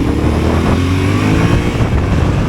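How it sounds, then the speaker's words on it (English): A Yamaha Tenere 700 World Raid motorcycle with the CP2 twin engine accelerates, a loud close rising engine drone with rumbling exhaust and wind noise, no talking. "That CP2 engine accelerates nicely"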